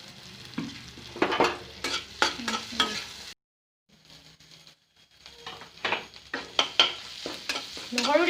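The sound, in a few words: black pepper and cumin frying and being stirred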